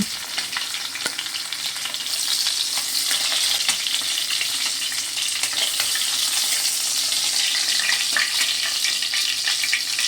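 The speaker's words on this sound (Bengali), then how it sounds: "বাকি মাছগুলো আমি একই রকমভাবে ভেজে নেব।" Loud, continuous sizzling and crackling of small hilsa fish frying in hot oil, with scattered pops and spatters throughout and no talking.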